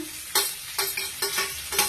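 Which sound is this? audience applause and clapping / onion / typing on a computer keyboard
onion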